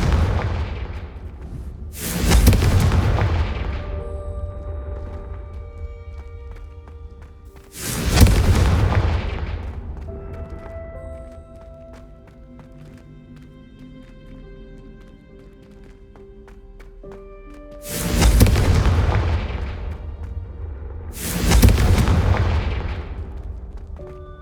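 Confringo blasting spells explode in Hogwarts Legacy: four heavy booming blasts at irregular intervals, each decaying slowly, with quieter tonal game ambience in the gaps.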